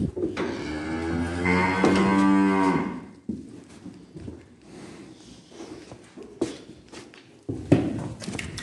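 A cow gives one long, loud moo during silage feeding on a farm, followed by quieter shuffling and footsteps, with a second brief call near the end.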